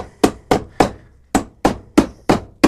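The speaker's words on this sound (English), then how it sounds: "Tap our nails out so we can get them out a bit easier at the other side." A hammer, struck with its pointed end, taps nails out of the sole of a poorly repaired Tricker's Malton leather boot: eight sharp, evenly spaced knocks, close and distinct, with no talking.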